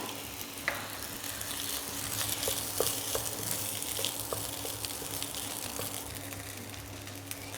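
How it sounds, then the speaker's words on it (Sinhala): Garlic rice heats in a pan as soy sauce is added, giving a steady, moderate sizzle. A few small pops and scrapes sound over a low background hum. "මේ විදිහට බත් එක රත් වෙගෙන එද්දී අපිට පුළුවන් සෝයා සෝස් ටික මේ බත් එකට එකතු කරගන්න"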